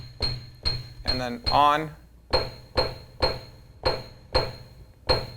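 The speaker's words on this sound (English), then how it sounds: "This is the one where you can really kind of hear the hammer strike in the upper" A Kawai digital piano with its hammer noise effect switched on plays one upper note about eight times in a steady rhythm, each strike giving a crisp percussive attack before decaying. A voice speaks briefly between the early notes.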